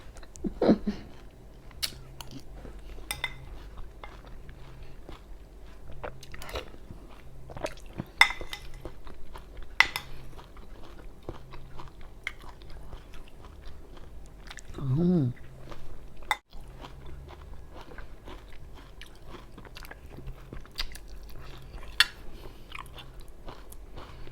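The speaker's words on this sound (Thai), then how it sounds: "เคี้ยวให้ละเอียด แล้วค่อยกลืนนะคะ ไม่งั้นติดคอ" Chewing and biting on a home-cooked Thai dinner of jaew pla ra dip and mixed vegetable soup, with close, wet crunches and squishy bites recurring irregularly alongside occasional dish clinks and a low background hum.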